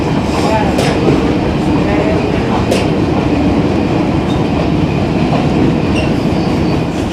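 Kohat Express passenger train rolling from Rawalpindi toward Kohat, a loud steady rumble of wheels and carriage noise filling the whole stretch, with occasional clacks and faint squeals.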